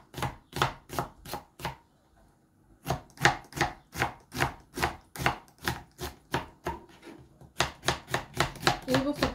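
Steady rhythmic knife chopping on a board while keema ingredients are prepared, loud and close, in bursts of rapid even strokes with one short pause near the start and faster chopping toward the end.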